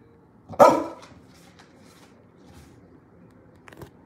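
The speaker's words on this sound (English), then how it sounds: "don't bark at me." A single sharp dog bark rings out near the start, then quiet room tone with a faint small sound near the end.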